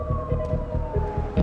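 Emergency vehicle siren wailing loudly and close, a sustained tone sliding slowly downward over a rumbling engine with faint rhythmic thumps, no talking.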